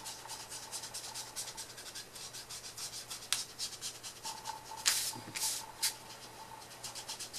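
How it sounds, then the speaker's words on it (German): A scrap of paper wiped over ink on card and paper page edges, giving repeated soft rubbing and scraping strokes, quiet and close, with a few sharper brushing swipes near the end. "nehme ich mir ein Stück Papier und wische vom Rand herein."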